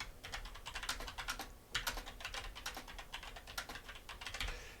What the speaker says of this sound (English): Here we can simply type extra data or cut and paste extra data